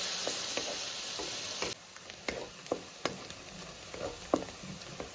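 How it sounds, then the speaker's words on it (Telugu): Sliced onions frying in a home kitchen pan for a Telugu fish curry, a steady soft sizzle with scattered stirring clicks and scrapes, fairly quiet and close, with no talk. "ఉల్లిపాయలు అనేది బాగా వేగాలండి."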